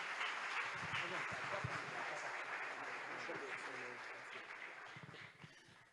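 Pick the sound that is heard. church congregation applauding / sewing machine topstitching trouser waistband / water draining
church congregation applauding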